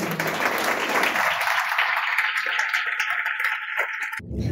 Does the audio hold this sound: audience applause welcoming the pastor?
yes